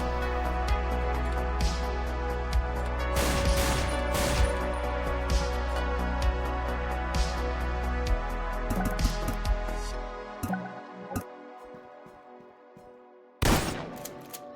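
Rapid bursts of gunfire from ranged enemies in an indie game crackle in dense volleys over a steady low hum, thinning out and then stopping, with one last sharp burst near the end; no talking.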